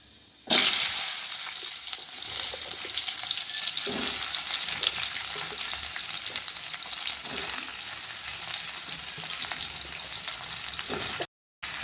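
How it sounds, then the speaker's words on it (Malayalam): Taro stems tipped into hot coconut oil with popped mustard seeds in a Kerala kitchen pan, a loud steady sizzle and crackle with occasional stirring scrapes, continuing for several seconds before a brief cut. "ഈ ചേമ്പിൻ്റെ തണ്ട് ഇതിലോട്ട് ഇടാം."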